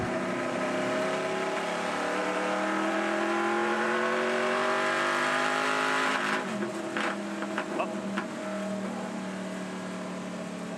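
Onboard sound of a Holden Monaro in a 2017 Touring Car Masters race at Queensland Raceway, its engine roaring loud and close in a sustained, strained pull that drops off near the end, with no talking.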